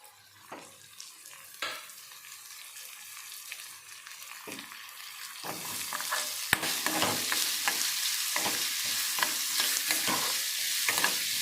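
Onion frying in oil in a pan at home, starting quiet with a few stirring knocks, then building into a continuous bright sizzle punctuated by repeated spatula scrapes and clinks.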